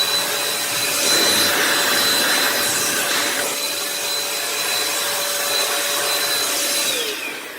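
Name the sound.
DataVac ED500 electric duster blower running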